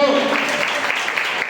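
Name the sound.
congregation clapping loudly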